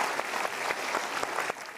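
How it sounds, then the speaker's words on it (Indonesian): An audience applauding at a motivational seminar, a steady dense burst of clapping from a large crowd that stays strong throughout and eases slightly at the end. "Kita berikan tepuk tangan."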